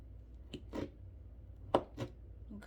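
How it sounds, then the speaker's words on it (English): A knife slicing an avocado into thick slices on a cutting board, a few separate soft thuds and cuts with pauses between them, close and alone. "Cut it in some thicker slices first"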